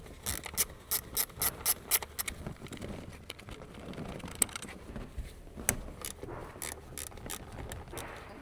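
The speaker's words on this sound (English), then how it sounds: "Use a small size 8mm deep socket with a small size ratcheting wrench. Remove the ignition coil mounting bolts." Small ratcheting wrench with an 8mm deep socket clicking in quick bursts while removing ignition coil mounting bolts on a Ford Escape, close and crisp with pauses between runs.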